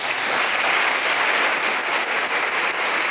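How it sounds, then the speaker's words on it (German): A burst of enthusiastic applause from a small group, steady clapping throughout with no talk over it. "Ein großer Applaus"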